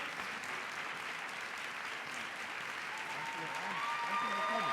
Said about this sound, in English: Some shouts, rounds of applause.